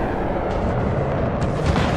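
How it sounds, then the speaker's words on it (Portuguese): Explosions and bomb blasts in the zombie survival video game Project Zomboid form a continuous, loud, rumbling barrage of booms over a dense low roar, with no speech. "O som do metal rangendo a cada explosão, ou do vidro se quebrando quando o impacto das bombas atingia as proximidades, era constante."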